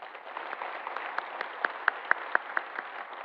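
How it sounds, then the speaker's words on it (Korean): A church congregation at a Sunday service claps, muffled and thin-sounding, the scattered applause settling into a few louder, evenly spaced claps near the end. "박수로 격려하겠습니다."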